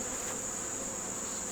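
A dense, constant buzzing of many bees nearby, steady and even throughout with a high whining edge and no voices.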